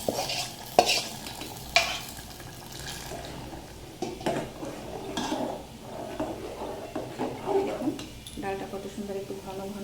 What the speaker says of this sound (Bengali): এই ফোড়নটা এখন ডালে দিয়ে দেবো